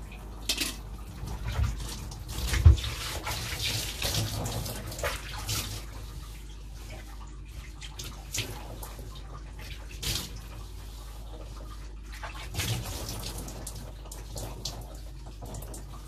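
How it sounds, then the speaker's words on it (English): Water from a tap runs and splashes unevenly as hair is wetted for washing at close range, with intermittent gurgles and drips and no talking. "Yeah, I've wet up my hair now."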